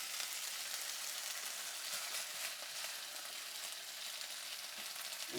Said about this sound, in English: Have a look at the bacon, it's nice. It's cooking well.